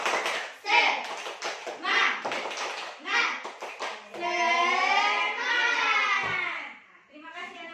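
Children in a classroom do the 'tepuk semangat' rhythmic clapping routine, bursts of patterned claps mixed with chanting young voices, ending in a long sung vowel and a few final claps.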